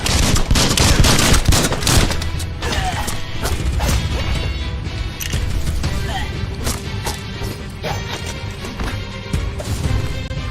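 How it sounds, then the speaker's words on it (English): Rapid gunfire and mechanical clatter from the Biomutant video game, dense bursts of shots with metallic impacts running loud and continuous throughout, with no talk. "Bullets everywhere."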